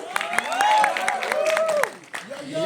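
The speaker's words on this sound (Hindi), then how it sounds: "तालियां बजा दीजिए everyone" An audience at a press conference for the film Fateh, with two of its stars, claps in scattered bursts while voices talk over the noise.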